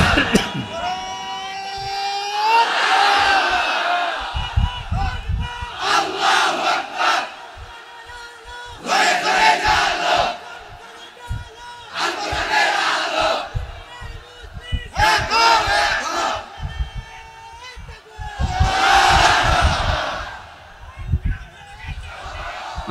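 A large crowd at a Bangladeshi waz religious gathering roars a loud chanted response to a takbir call, several surging group shouts in rhythmic waves that echo across the open ground, mixed with a leader's amplified voice.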